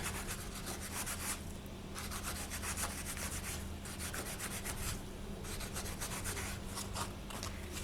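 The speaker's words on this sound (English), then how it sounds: "grab your sanding paper and press it into that hole" Steady scratchy rubbing of sandpaper against a small piece of polymer clay, continuous back-and-forth strokes with brief pauses, close up over a low background hum.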